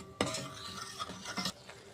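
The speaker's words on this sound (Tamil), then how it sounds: "நம்ம இந்த அரைச்சி வச்ச தேங்காய் ஒரு 2 மினிட்ஸு நல்லா வதக்கிக்கலாம்." Ground coconut paste is sautéed in a pan with asafoetida, curry leaves and a dried red chilli for white pumpkin kootu, heard as a few soft, close spatula scrapes and rustles over a faint sizzle.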